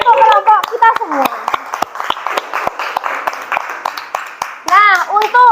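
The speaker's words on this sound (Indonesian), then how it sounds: "Tepuk tangan untuk kelompok kita semua." Students in a classroom clap for a group after a drama performance, with sharp uneven claps fairly close. Children and a teacher talk over the clapping at the start and end.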